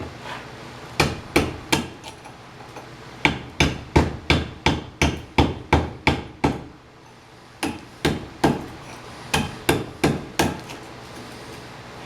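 A hammer strikes a chisel in rapid runs of sharp metallic blows, cleaning crusted river finds; clustered rhythmic hits, close and loud, with a short pause midway.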